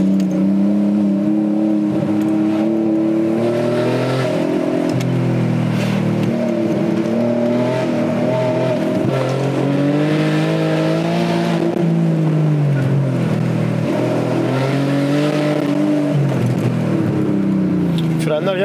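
Alfa Romeo GT with a 3.2 V6 Busso engine driving and accelerating, the engine note rising and falling through gears with loud sustained drone, heard from inside the car with someone talking over it.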